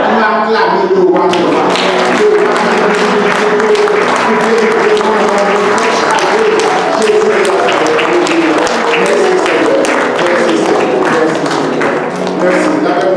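A church congregation at a Sunday worship service applauds and cheers in acclaim, steady loud clapping sustained throughout with voices mixed in.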